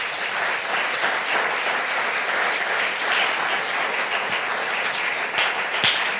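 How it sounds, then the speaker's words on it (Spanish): A church congregation gives sustained applause for Jesus, a broad crowd of clapping that stays dense and fairly loud from start to finish. "Dele un aplauso pero gigante a Jesús."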